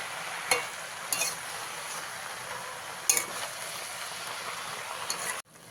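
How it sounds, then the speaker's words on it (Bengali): Red amaranth greens get stirred into a pan with potato, eggplant and pumpkin, producing a soft continuous hiss of cooking broken by a few clinks and scrapes of a spoon against the pot before it stops abruptly. "ভালো করে শাকটাকে আলু বেগুন আর কুমড়োর সাথে মিশিয়ে নিতে হবে"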